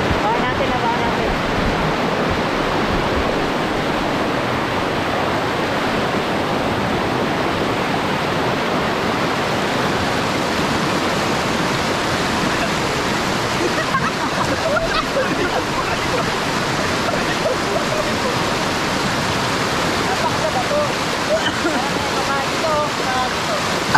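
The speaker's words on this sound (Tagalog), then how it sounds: "nakapagpasya na kami magpaanod sa rumaragasang tubig ng ilog na ito" Fast, rushing river water roars loudly and close by as a steady, unbroken wash of sound.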